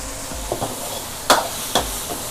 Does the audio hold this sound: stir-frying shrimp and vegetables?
yes